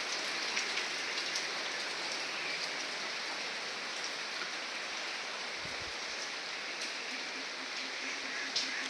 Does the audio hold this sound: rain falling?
yes